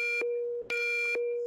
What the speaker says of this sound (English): Someone turn off the fire alarm.